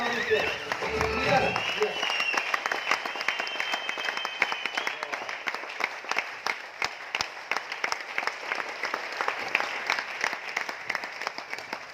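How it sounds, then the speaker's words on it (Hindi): A large audience at a meeting in Aurangabad, Maharashtra breaks into loud, sustained applause welcoming a speaker to the stage, dense rapid clapping filling the space after a moment of voices at the start. "मैं आपके बीच में जोरदार तालियों से बुलाने जा रहा हूं।"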